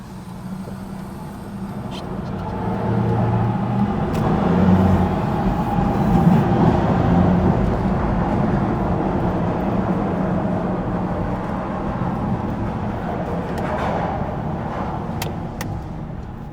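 Steady street traffic in Kensington, with a continuous rumble of engines and passing vehicles and occasional faint clicks and squeaks, holding at an even level throughout.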